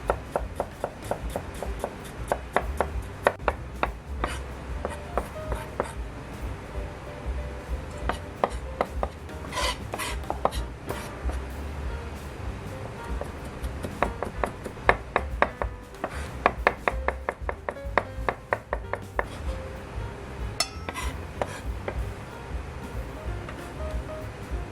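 Ginger being chopped with a knife on a board for chicken udon hot pot, a long run of quick, crisp, close knife taps in bursts with brief pauses.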